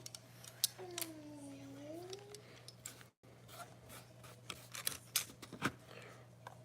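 Scissors snip faintly and close by during jig tying with squirrel hair, a few small cuts and rubbing sounds over a low steady hum, with a brief whistle-like tone early on.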